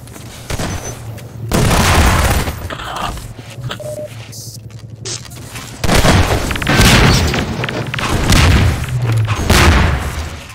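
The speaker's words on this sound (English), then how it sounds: "Rocket." A rocket explodes in Half-Life 2 Deathmatch, one of several heavy booming blasts that surge loudly in bursts between quieter stretches of gunfire and game noise.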